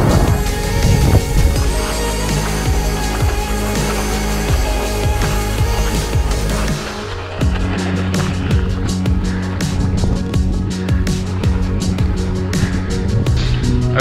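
Strong wind buffeting a microphone on a mountain above 2000 m in winter, a loud rumbling roar for the first half, then gusty crackling bursts close to the mic with no clear talk.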